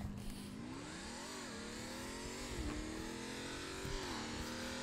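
A NASCAR race car with a level 4 engine in Roblox Jailbreak accelerates hard, its engine tone climbing and dropping through repeated gear shifts, steady and fairly close.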